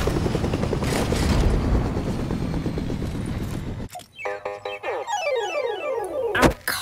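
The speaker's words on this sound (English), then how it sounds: "Back to that gold chopper and let's take off." A gold helicopter in a video game roars with a dense rotor and engine wash that cuts off abruptly, followed by layered whirring, sweeping mechanical tones and a loud thump near the end.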